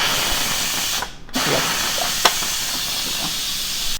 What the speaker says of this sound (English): so we're gonna release the pressure